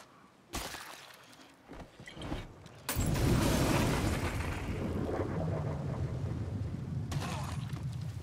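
A loud explosive blast erupts around the three-second mark following a shouted warning, with a sustained roaring rumble and debris noise that lingers for several seconds; scattered knocks and shuffles precede it.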